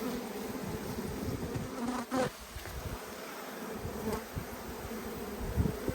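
Honey bees buzz continuously around an open backyard hive while frames of comb are inspected. The drone is dense and close, with a few sharper passes of nearby bees.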